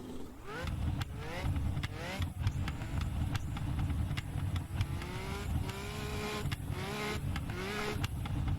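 A Porsche 917-30 Can-Am race car in the Assetto Corsa racing game revs hard through repeated upshifts, its engine note climbing and cutting sharply with each gear change, loud and continuous with turbo whistle layered over the roar.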